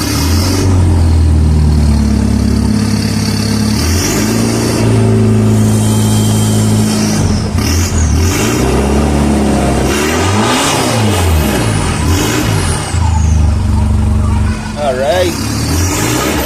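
A Nissan Navara NP300 with an offroad setup is revved up and down repeatedly: loud, close engine rising and falling in pitch through several bursts, with a person talking over it.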